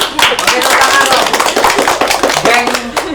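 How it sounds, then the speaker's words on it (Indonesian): A classroom of students claps hands in a dense, continuous burst of rapid clapping lasting a few seconds, loud and close, with voices mixed in. "Oke, tepuk tangan dong"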